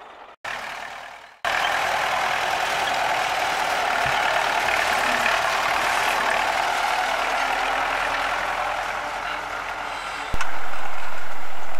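A tractor engine drones steadily at close range during haymaking, a loud continuous mechanical rumble after a short start, with no talk over it.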